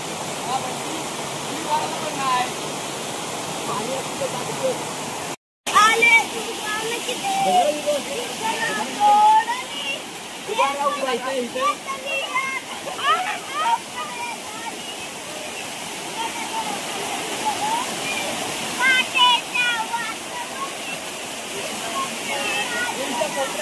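A steady, broad roar of falling water at Hemnagar waterfall fills the scene continuously and fairly close, with people talking over it and a momentary dropout of sound early on.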